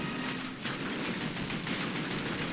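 Heavy automatic fire from a truck-mounted gun in the Call of Duty video game, a dense continuous burst of rapid shots that stays loud and unbroken throughout, with no talking over it.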